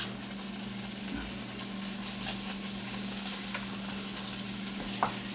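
Diced onion and garlic fry in a pan beside shrimp juices, giving a low steady sizzle with faint crackles and one small clack near the end, under a constant low hum, with no talking.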